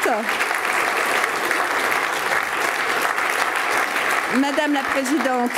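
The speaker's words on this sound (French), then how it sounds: "On peut les applaudir." An audience at an insurance awards ceremony applauds in a dense, steady wash of clapping that runs the whole time, while a presenter speaks over it toward the end.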